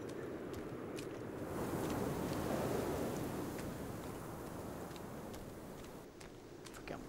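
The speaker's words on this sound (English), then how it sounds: "Why is it so windy?" Steady wind in the Sons of the Forest game blows as a broad rushing hiss that swells and eases, with faint ticks and rustles and no talking.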